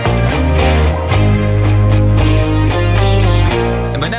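Recreated drums from a pop track, a loud, steady groove with punchy kick and crisp snare hits under bass and synth, playing continuously without talk.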